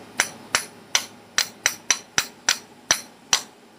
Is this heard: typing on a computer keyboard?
no